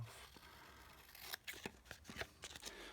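Scissors trim paper for a journal project with a series of close, crisp snips that grow more frequent toward the end.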